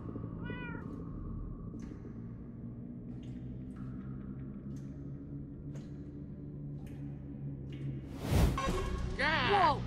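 Faint meows sound from a video game, with a low droning hum and soft clicks underneath, then a louder thump and a cat cry near the end.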